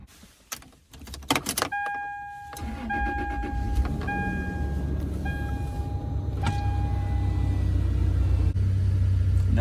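A Toyota truck, just fitted with a new exhaust, cranks with a few clicks while dashboard chimes ring, then its engine catches and settles into a steady, close, deep idling rumble with no talk.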